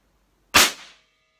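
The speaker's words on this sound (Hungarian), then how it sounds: "most nézzük, hogy így szárazon egyébként elsül a fegyver" A single sharp metallic click from a Sig Sauer P320 pistol being dry fired, close and brief with a short decay, alone against silence.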